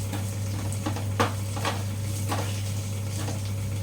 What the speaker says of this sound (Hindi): ये देखिए मसाला भून रहा है